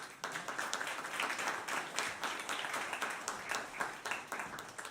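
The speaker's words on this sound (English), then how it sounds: "So please, a round of applause for Abby and Nick and, of course," An audience at a jazz piano trio concert at Kerrytown claps in a steady, moderately distant round of applause, with dense overlapping claps and no voices.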